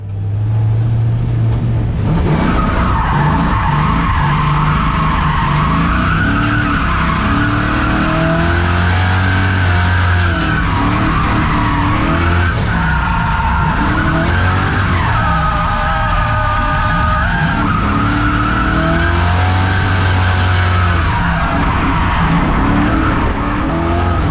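A Nissan S14 drifts with repeated bursts of loud tire squeal over a revving, accelerating engine, the squeals rising and falling across several passes, close and without talk.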